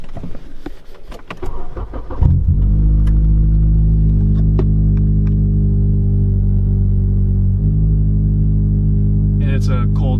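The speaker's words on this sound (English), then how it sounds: "Alright, we're gonna start the car up." A cold-started Acura ILX engine with a short ram intake and re-flashed tune cranks briefly, then settles into a loud, steady idle with a deep continuous rumble and small fluctuations, after some handling noises at the start.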